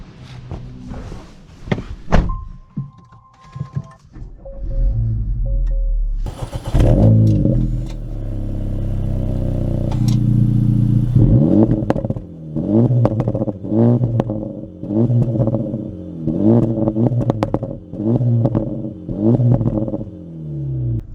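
A 2024 Acura Integra Type S, starting with a door thunk and clatter, then its engine pulling hard through repeated rising revs and gear changes, loud and close from inside the car.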